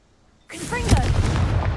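A Confringo blasting spell in Hogwarts Legacy bursts after a short silence into a loud, sustained explosive roar with crackling and whooshing tones, and a voice speaks over it.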